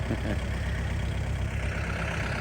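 A farm tractor stuck in mud in a rice field, its engine running with a steady low rumble and idle-like throb, fairly close and continuous.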